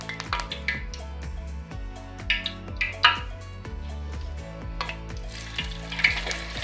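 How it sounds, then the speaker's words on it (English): Tater tot potato mixture fries in hot oil with a steady sizzle, sharp crackles and bursts rising as pieces go in, set against a low ringing musical background. "Gently begin placing your potato mixture into the oil"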